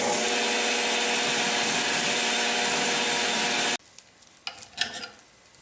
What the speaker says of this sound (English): I'm going to drill this and use an extractor.